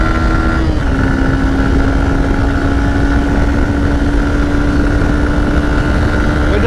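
A Honda CB Hornet 160R and a Suzuki Gixxer FI race in third gear, a loud, steady engine hum with a sustained whine and a pitch shift near the start.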